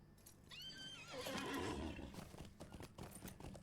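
A horse in Lord of the Rings Online neighs loudly with a rising, quavering whinny, followed by soft hoof clip-clops and shuffling; no speech.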